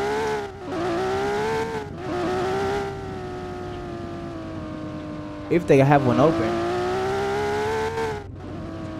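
A loud supercar engine drones and revs steadily while driving in a game set in southwest Florida, a strong harmonic tone rising and falling with a brief sharp rev burst midway, as someone talks over it.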